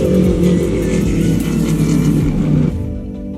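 Race cars crossing the finish line at the end of a GTRNZ race at Hampton Downs, a loud sustained engine roar under high revs that cuts off sharply near the end, leaving a fainter, lower rumble.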